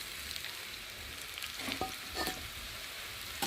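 Potatoes fry in a pan with salt, turmeric, chili powder and cumin powder, giving a soft, steady sizzle with a few brief stirring scrapes and clinks, fairly quiet and without talk.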